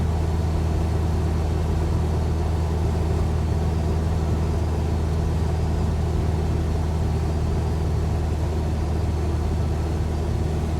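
A Cessna 172's engine drones on steadily in flight on a windy day along the coast, a constant low, even hum inside the cabin with no voices.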